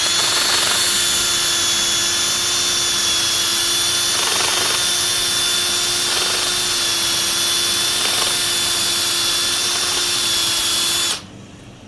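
Sandpaper of 120 grit rubs against a spinning wooden workpiece on a woodturning lathe, giving a loud, continuous whirring hum with a faint scratchy texture that stops abruptly near the end.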